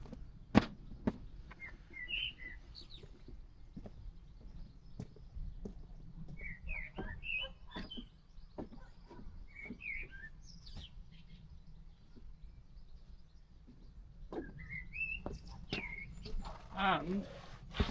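Wild birds chirp and tweet around a feeding tray on an allotment, with faint scattered calls over quiet outdoor background and occasional soft knocks and taps.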